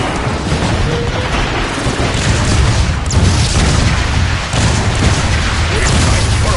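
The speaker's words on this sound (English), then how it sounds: "They're shelling the plaza! It's coming from that warp cannon." Warp cannon shelling in Transformers: Fall of Cybertron: a continuous loud barrage of booming blasts and rumbling debris over a dense, steady roar, with voices faintly mixed in.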